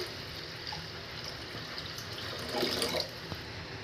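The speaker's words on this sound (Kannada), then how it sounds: "ಎಷ್ಟು ಅಕ್ಕಿ ಹೆಸರುಬೇಳೆ ತಗೊಂಡಿದೀರೋ ಅದಕ್ಕೆ ಡಬ್ಬಲ್ ಅಷ್ಟು ನೀರನ್ನ ಹಾಕ್ಕೊತಾ ಇದ್ದೀನಿ" Water is poured into a pot of rice and moong dal for khara pongal, a steady running splash that swells louder near the end, with no talking.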